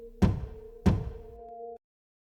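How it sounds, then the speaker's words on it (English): Two distinct knocks on a window, loud and close, evenly spaced about half a second apart, with a faint hum that cuts off afterward. "I heard knocks on the window."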